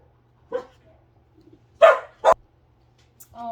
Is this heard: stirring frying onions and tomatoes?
no